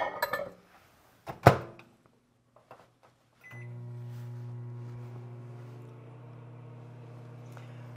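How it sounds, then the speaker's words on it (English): A microwave oven melting chocolate chips starts with a door clunk and beep, then settles into a steady low hum that runs continuously to the end, close by and without talk. "And now we're going to microwave this until it all melts."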